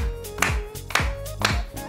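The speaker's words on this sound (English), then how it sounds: "Okay, let's try it again. Clap it out." Hands clap in sharp, evenly spaced beats, about four in under two seconds, as a dance group keeps time to a count, with music and voices running underneath.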